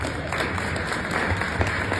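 An audience at a Chicago event with Mayor Brandon Johnson breaks into a steady round of applause, a dense, continuous patter of many hands clapping at moderate loudness with no voices on top.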